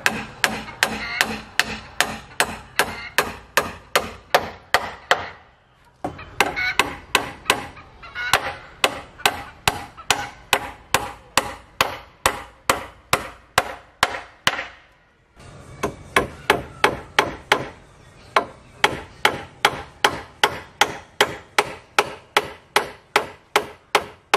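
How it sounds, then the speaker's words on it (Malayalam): Steady hammering of nails into wooden planks while building a wooden chicken cage, dozens of sharp, regular blows in quick rhythm, close and loud, with two brief pauses. "ഇതുപോലെ രണ്ട് ഭാഗത്തും പട്ടിക എടുത്ത് ആണി അടിച്ച് ഉറപ്പിക്കുക."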